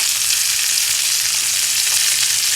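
Dry-brined picanha steaks fry in a hot pan, a loud, dense, unbroken hiss and crackle held close throughout, with nothing else audible.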